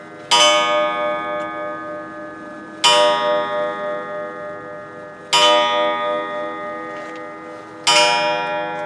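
Four resonant strikes from a restored German clock ring out at a slow, even pace, each sharp onset followed by a long shimmering decay, loud and near with no voices.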